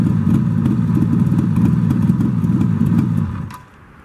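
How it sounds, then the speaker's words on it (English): A 1972 Suzuki GT750 two-stroke motorcycle engine idles steadily at about 1300 RPM with a rough, popping rumble, close and loud, then drops off abruptly near the end. "about a 1300 RPM idle, so it is a good running bike"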